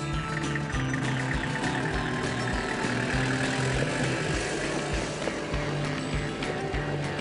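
A V8 Chev-powered Toyota 40 Series engine runs steadily, held at around 1800 rpm with a continuous mid-pitched drone and a low throbbing rhythm, loud and close throughout without pauses.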